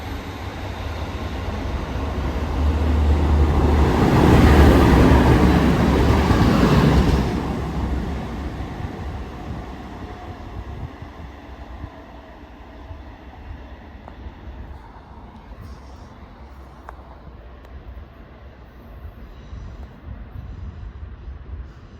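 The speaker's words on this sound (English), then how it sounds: "Train now departing is a 150" At Dewsbury station, a Class 150 and a Class 185 train depart together, their engine rumble building to a loud peak and then fading into a steady low drone as they pull away, with no talk.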